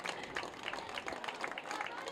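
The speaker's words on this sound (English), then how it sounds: "Nice round of applause as Creighton Frost able to jog his way off." A crowd at a high school football game claps and cheers steadily at a distance, a dense wash of applause with a voice talking over it.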